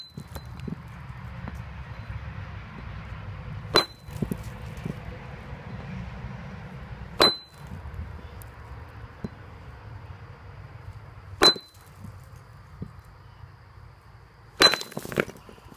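Geode being struck open with a hammer outdoors, four sharp, ringing metallic cracks spaced a few seconds apart over a low wind rumble, the last strike followed by a quick double hit.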